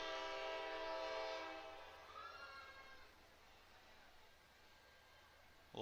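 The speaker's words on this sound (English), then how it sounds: "as the train comes on by." A train's harmonic horn blares loud at the start while it passes near a soccer stadium during a women's college match. It fades away over a few seconds and leaves a low rumble and crowd ambience.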